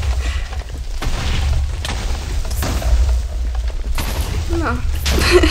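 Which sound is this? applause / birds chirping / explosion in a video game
explosion in a video game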